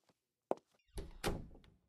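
A door shuts in an audio drama: a sharp knock-like click, then a heavy, close thud as it swings closed, with no voices over it.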